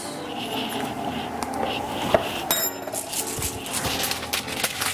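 A spoon stirring chicken bone soup in a pot, making scattered close clinks and scrapes against the pot with soft kitchen rustling.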